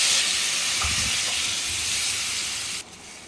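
Ground spice paste hitting a hot pan of frying food in a home kitchen, giving a loud, steady, close hiss and sizzle that fades slightly before dropping off abruptly near the end.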